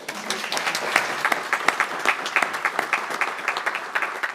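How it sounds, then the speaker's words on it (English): Audience applause at a town council meeting, a room full of people clapping steadily and fairly loudly. The clapping is brisk and continuous for a few seconds, with no talk over it. "I think that's worth a little bit of an applause."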